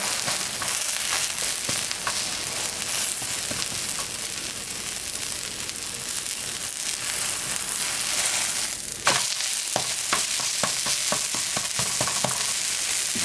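Seafood pancake batter sizzles and crackles steadily in a hot pan over low heat, a continuous frying hiss with occasional sharper pops and a brief scrape midway.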